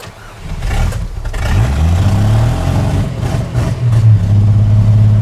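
An old car's engine catches after the clutch is popped, the low rumble climbing from a rough start into a steady, loud idle and revs up close.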